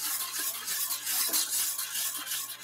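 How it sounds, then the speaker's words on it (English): A wire whip stirs cream pie filling in a steam kettle, giving a continuous close scraping and swishing with a faint low steady hum behind it. "and then you take a wire whip,"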